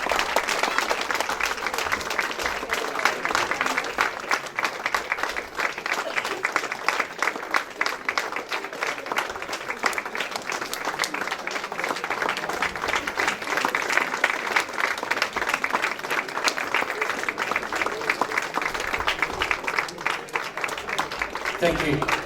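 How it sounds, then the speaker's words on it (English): A hall audience applauds the Mayor of Derby at a Diwali lights switch-on, steady sustained clapping that carries on evenly for a long stretch. "please all stand up now and give a big round of applause to the Mayor of Derby, Councillor Paul Peck."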